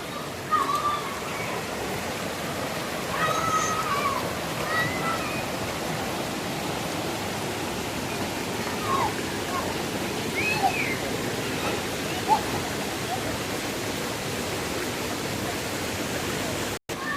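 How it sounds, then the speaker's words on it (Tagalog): A strong current of a mountain river rushes along, a broad continuous wash of noise at moderate level, with faint scattered higher sounds and a few brief bumps, and no clear talk. "ang lakas po ng agos ng tubig"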